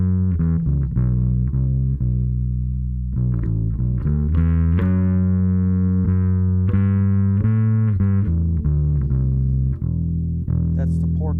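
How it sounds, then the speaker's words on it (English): Bass guitar, a Fender Custom 58 or Sire Z7, played through a distortion effect: a sustained, gritty riff of held and changing low notes with a thick, buzzy edge, loud and alone. "I do like to run a little distortion at times."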